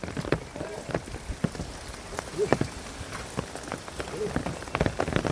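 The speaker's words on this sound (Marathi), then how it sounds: "वरतून थेंब थेंब थेंब थेंब पाणी पडतंय झाडावरतून" Water drops falling from trees after rain in the Konkan countryside, with scattered irregular pattering taps, some close and sharp, others faint, over a soft wet background.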